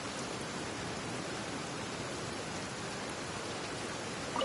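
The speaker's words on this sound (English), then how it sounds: "I love listening to the rain from the courtyard." Steady rain falls in a courtyard in Genshin Impact, a dense, even hiss that holds unbroken for the whole stretch, with no voices over it.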